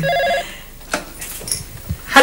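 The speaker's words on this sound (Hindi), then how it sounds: "मुबारक हो, पहली टेलीफोन कॉल आ भी गई, उठाइए" A telephone bell rings in short trilling bursts at the start, loud and close, followed by a pause and clattering handling sounds as a newly installed phone receives its first call.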